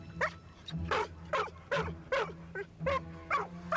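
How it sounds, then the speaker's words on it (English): Cadaver dogs bark repeatedly on a scent, about eight sharp, evenly spaced barks close by over a low background hum, with no talk. "And cadaver dogs hit on a scent."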